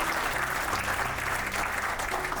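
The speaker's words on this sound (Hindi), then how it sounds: "अरिजीत सिंह, आतिफ असलम, श्रेया घोषाल जी एंड जोनिता गांधी के लिए भी एक बारी जोर से ताली बजाएंगे।" A fan-meet crowd applauds singers with dense, sustained clapping that holds at an even level from start to finish.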